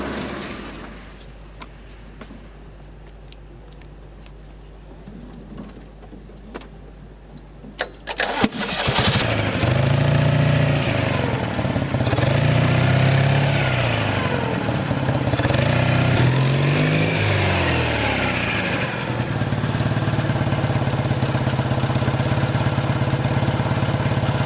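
Citroën 2CV engine starting up after a quiet stretch, then running steadily as it drives, a loud, buzzy air-cooled drone that rises and falls with revs and holds close and constant to the end.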